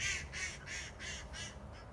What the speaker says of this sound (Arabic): هذا صوت طير الخضيري